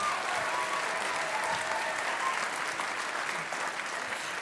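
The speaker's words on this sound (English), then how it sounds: "take a moment to give them a big round of applause" A graduation ceremony audience in a large hall gives a big round of applause, dense, sustained clapping that holds steady throughout at moderate distance.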